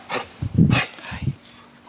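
A dog gives a few short, close vocal yips or whines in quick succession, mixed with faint background noise.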